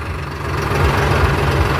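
A heavy tractor engine idles steadily nearby, a low rhythmic chugging rumble that grows slightly louder after the first half second.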